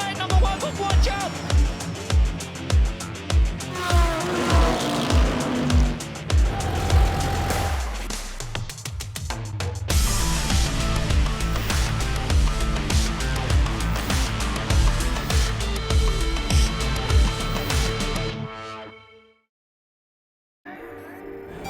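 Historic racing cars roar past at the Goodwood Revival during the Goodwood Trophy race, engines loud and close in a dense, shifting wave that fades away near the end, with faint voices underneath.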